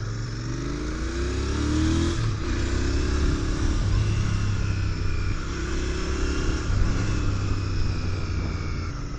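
A Royal Enfield 650cc motorcycle rides steadily with a loud, continuous engine rumble, rising and falling with throttle changes and a brief gear-shift dip, heard close throughout.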